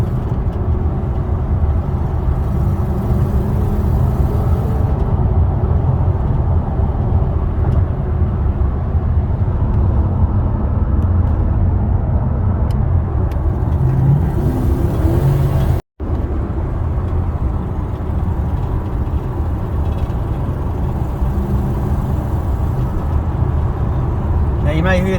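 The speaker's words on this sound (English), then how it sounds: "You may hear there is a little bit of an exhaust leak" A 2013 Toyota Hilux 2WD ute fitted with a 3UZ V8 and six-speed automatic cruises in top gear at about 100 km/h, a steady low drone of engine and road noise with a slight exhaust leak, and talking over it.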